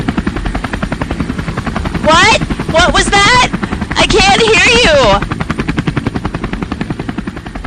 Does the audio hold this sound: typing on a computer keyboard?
no